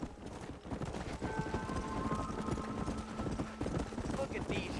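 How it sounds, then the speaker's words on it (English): Horses' hooves clip-clop in a steady, rhythmic walk in Red Dead Redemption 2, fairly close and continuous, with a low rumble of game ambience underneath. "Look at these here horses."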